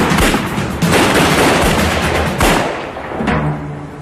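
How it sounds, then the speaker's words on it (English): An exchange of gunshots during a bank robbery getaway crackles as a dense, loud barrage of rapid shots, with several sharper bangs standing out before the volley thins toward the end. "There was an exchange of gunshots."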